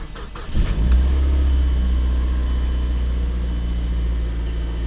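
A car engine cranks briefly and fires up, then settles into a loud, steady running rumble close by. The car is a front-end-damaged vehicle at a salvage auction yard.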